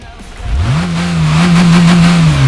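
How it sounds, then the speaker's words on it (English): A 642 horsepower car engine, heard in the Gran Turismo 5 racing game, revs up loud and close, climbing quickly and then holding a steady roaring drone. "Rock and roll is the sound of a 642 horsepower engine revving so loudly"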